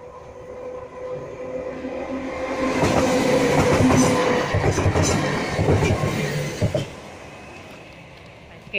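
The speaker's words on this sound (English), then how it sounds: "Train going to Southport has just gone past." A train bound for Southport passes close by on a Merseyside line near Crosby, Liverpool, building from a low rumble to a loud rushing clatter of wheels over several seconds before fading away, heard alone without talk.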